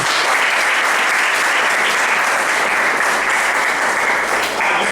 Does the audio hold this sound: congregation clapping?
yes